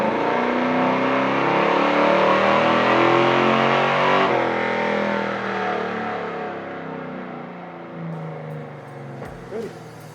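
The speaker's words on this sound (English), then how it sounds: "make a couple dyno hits on it" A Blueprint 396 engine in a classic muscle car roars on a chassis dyno, a loud sustained rising pull that drops off midway and settles to a lower, fading drone with a brief blip near the end.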